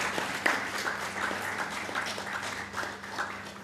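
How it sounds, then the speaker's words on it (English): Conference audience applauding, a soft, fairly distant patter of many hands clapping steadily for a few seconds, low in level throughout. "can you please applaud a little loudly?"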